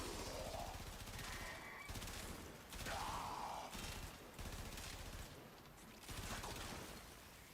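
Sustained gunfire in the Warframe Techrot game, dense rapid bursts repeating for several seconds with brief pauses and mechanical clatter, loud and close, with no talk over it.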